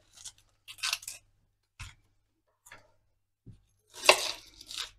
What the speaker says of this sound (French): Je vais couper des petits bouts d'oignon.